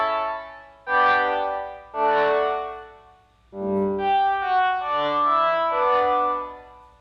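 Soft synth pad chords on a Novation Summit that swell in gradually rather than starting abruptly, several overlapping notes rising and fading, with no voices.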